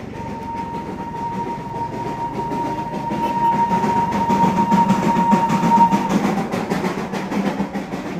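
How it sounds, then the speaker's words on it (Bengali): The Darjeeling toy train runs alongside in the hills, a continuous rumbling rattle of its cars with a steady whine on top, swelling louder through the middle before easing slightly. "দেখো টয় ট্রেনকে সাথে নিয়ে যাচ্ছি।"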